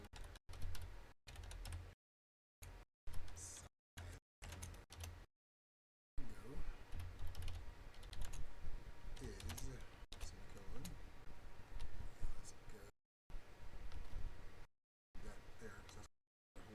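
Computer keyboard clacking as someone types Python code, quick irregular keystrokes mixed with someone talking, faint and close, with repeated gaps of silence.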